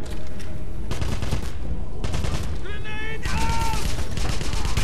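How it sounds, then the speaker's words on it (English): Dense bursts of gunfire from the World War II shooter game Wolfenstein, loud and continuous, with rapid automatic fire and booming shots plus several whining tonal effects partway through. "I'm taking fire!"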